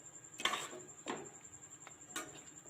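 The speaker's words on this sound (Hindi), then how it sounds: "मिक्स करेंगे, 1 मिनट के लिए चम्मच चलाएंगे" Faint, sparse clinks and scrapes of a spoon stirring chicken with garlic-ginger paste, salt and turmeric, three or four distinct metallic taps over a quiet background with a steady high hum.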